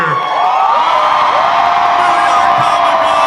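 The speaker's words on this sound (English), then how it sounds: "Give me another cheer." A large Comic Con crowd at a Walking Dead panel in Madison Square Garden cheers and whoops continuously, a loud, dense roar of many voices sustained throughout with scattered individual yells rising above it.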